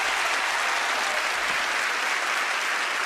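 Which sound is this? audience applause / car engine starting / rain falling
audience applause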